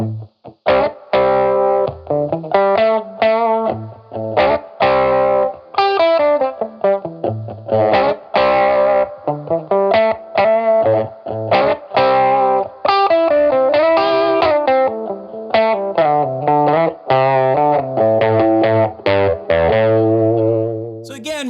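Processed electric guitar playing through an Asheville Music Tools APH-12 analog phaser at 3 stages with the LFO off, a swirling, phase-shifted yet static, hollow filtered tone, continuous chords and notes, loud and close.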